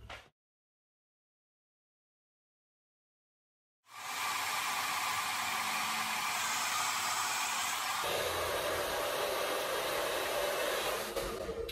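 A hair dryer blows steadily and loudly for about eight seconds while hair is dried into defined waves, starting abruptly after a few seconds of silence, with its tone shifting slightly partway through; no one speaks.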